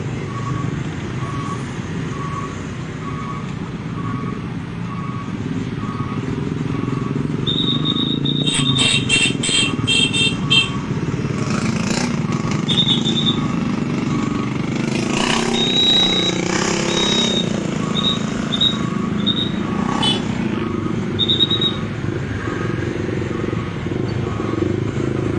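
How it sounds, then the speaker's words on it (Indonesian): Dense afternoon traffic of motorcycles and trucks passes on an alternative route, a continuous engine rumble rising as vehicles come closer, with repeated high beeping tones and scattered horn-like bursts over it. "Memang di saat sore hari kendaraan cukup padat."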